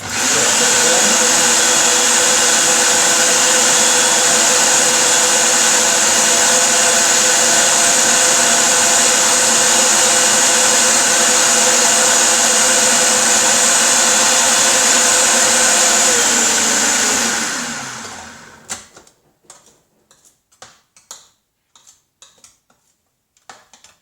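Food processor grinding falafel mixture, a loud steady whirring motor drone lasting about eighteen seconds, then winding down and stopping, followed by a few light clatters.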